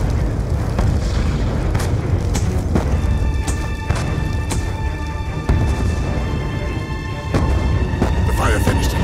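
Mortar rounds explode in a desert battle in Call of Duty: Black Ops 2, heavy booms and thuds landing repeatedly over a dense combat din while characters shout.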